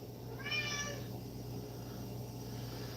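A pet cat indoors gives a single clear meow, close and fairly quiet, over a steady low background hum.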